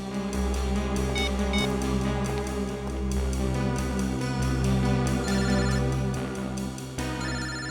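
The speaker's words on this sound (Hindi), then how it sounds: "सर दिव्या का फोन तो यही कहीं बज रहा है।" A mobile phone rings with a repeating electronic ringtone melody, loud and steady for several seconds with no talk over it.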